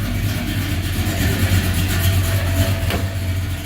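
A 1978 Ford Courier engine idles at 700 RPM with a loud, steady low rumble and a regular pulsing throb, close up and without talk.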